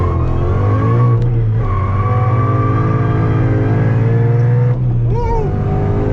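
A supercharged 2013 Ford Mustang GT roars hard through a second-gear pull from low revs, its loud, steady engine note climbing with a brief tire squeal partway through, close and continuous with no talk.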